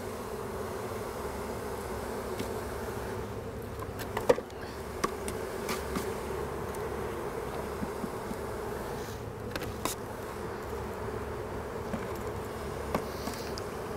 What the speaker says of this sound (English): these bees will all go in this hive before the night is over